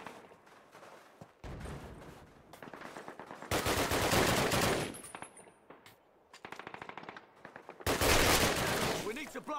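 Gunfire in Call of Duty, bursts of loud machine-gun and rifle fire alternating with quieter gaps, with in-game voices faintly mixed in.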